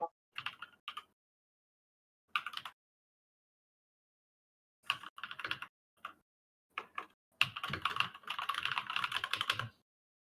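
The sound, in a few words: loud computer keyboard clicks while typing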